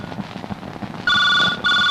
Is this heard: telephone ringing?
yes